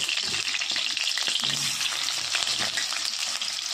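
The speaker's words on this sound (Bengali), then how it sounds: "আলুগুলো একটু ভেজে নেব।" Potatoes fry in oil in a wok, giving a continuous loud crackling sizzle up close with light stirring scrapes and no voices.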